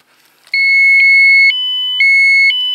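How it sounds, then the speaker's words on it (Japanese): A radiation meter held near contaminated water from the Fukushima Daiichi plant sounds its alarm, a loud electronic beeping in regular half-second pulses that alternates between two tones after a brief quiet start. "あ、もうアラームが鳴りましたね。"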